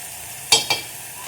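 Masala paste frying in oil for a wild leafy vegetable dish: a low sizzle with two quick scraping stirs close by, the first louder than the second, and no talking.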